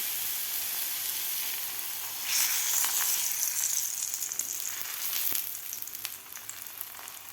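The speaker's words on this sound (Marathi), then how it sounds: "आता लगेचच आपल्याला थापून घेतलेलं थालीपीठ तव्यावर घालायचं आहे." Spinach thalipeeth pressed onto an oiled hot griddle starts sizzling partway through, with a bright, steady hiss and a few small crackles that slowly soften. No voices are heard.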